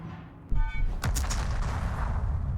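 Battleship main guns from the USS Minnesota in World of Warships, modded sound: a sharp, loud blast then a long rumbling roar with crackling echo, preceded by a brief mechanical tone sequence.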